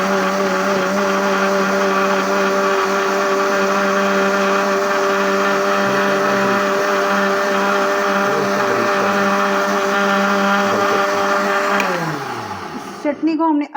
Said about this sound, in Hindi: चटनी को हमने अच्छी तरह ग्राइंड करना है, यहाँ तक कि ये इसका जो टेक्सचर है वो बहुत बारीक फॉर्म में आ जाए।